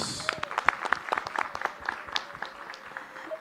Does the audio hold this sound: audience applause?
yes